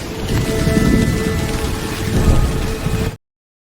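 Heavy rain pours steadily in a scene from the 2024 film Heretic, a dense continuous wash with low rumbling underneath, then the sound cuts off abruptly.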